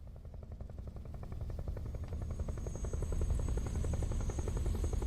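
Helicopter in the video game Metal Gear Solid Delta: Snake Eater, a steady rhythmic rotor chop with a low engine drone, close and gradually growing louder over several seconds, with no talking.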